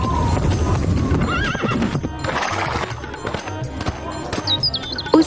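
Mare's hooves clip-clopping in a steady walking rhythm, close and clear, with a whinny, chirping birds in the background and a cartoon-story soundtrack feel.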